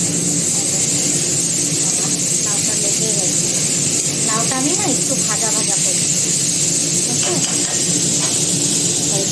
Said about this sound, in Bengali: এখানে চিমনি চললে অনেক আওয়াজ হয়